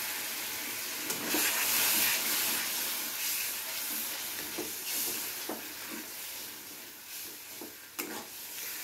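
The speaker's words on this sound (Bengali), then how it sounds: "মশলাগুলোকে মিশিয়ে নিয়ে দিয়ে দিচ্ছি সামান্য জল।" Ground spice paste for a Bengali shankar fish curry, loosened with a splash of water in a kadai, gives a steady soft hiss and sizzle with occasional stirring scrapes, close and moderately loud throughout.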